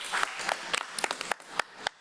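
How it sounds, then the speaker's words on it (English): A small audience at a school board committee of the whole meeting claps, a sparse, uneven patter of individual hand claps, close and distinct, fading out after about two seconds. "let's give our Gear Up program and our transition specialist another round of applause"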